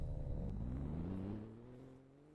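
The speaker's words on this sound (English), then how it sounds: "because the car is kind of loud." A video game car's engine rumbles steadily with a rising, revving tone, then drops lower and quieter toward the end, with no talk over it.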